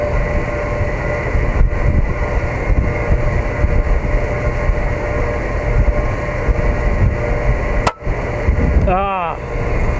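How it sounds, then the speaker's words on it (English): Strong wind buffets the microphone outdoors in loud, rushing gusts with low rumbling, a brief dropout near the end and a garbled voice-like sound just after it. "this wind is ripping."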